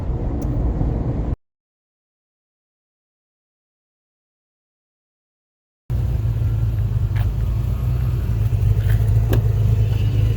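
Corvair-engined sand rail running while driving, a loud, steady low engine rumble with wind noise, cut by a few seconds of total silence before the engine returns just as strongly.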